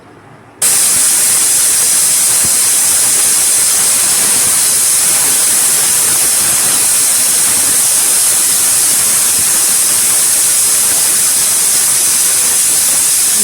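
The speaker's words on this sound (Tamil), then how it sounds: "விசில் வந்துருச்சு." A pressure cooker cooking green gram rice on a stove releases a loud, steady, continuous steam hiss that starts abruptly and then holds unbroken, close and alone.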